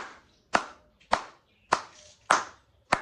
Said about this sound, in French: ça mérite les applaudissements